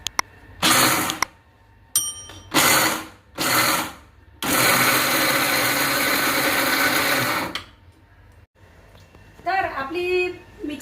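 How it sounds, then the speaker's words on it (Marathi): A kitchen mixer grinder blends peanuts and green chillies into a chutney for idli in several short loud pulses, then one longer continuous run. After the motor stops, a voice briefly speaks. "आता हे आपल्याला मिक्सरला फिरवून बारीक करायचं आहे"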